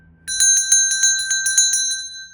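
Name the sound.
notification bell sound effect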